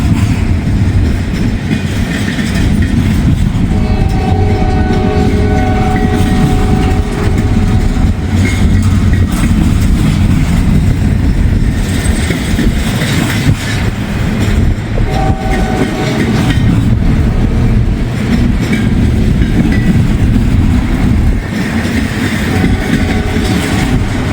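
A Z150 intermodal freight train passes close by, a loud continuous rumble with clattering wheels and a few horn blasts partway through.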